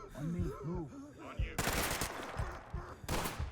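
Rapid bursts of enemy gunfire ring out in the tactical shooter Ready or Not, loud dense volleys cutting in twice over a player's excited talking.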